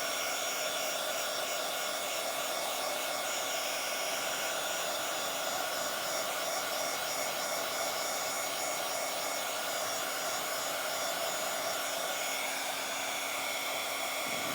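A hair dryer blows steadily over a Bible journal page, a constant loud whooshing hum that holds for the whole stretch without a break or any talking.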